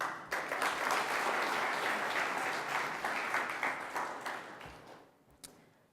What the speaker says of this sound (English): would you please join me in giving another heartfelt round of applause to all of our 2017 Hartzog Award recipients